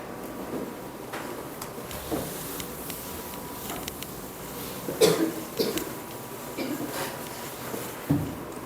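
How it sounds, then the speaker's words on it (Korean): A few coughs in a quiet room during a calculus lesson, one sharp cough near the middle and another near the end, fairly faint over low background hiss. "왜 기침까지 해요?"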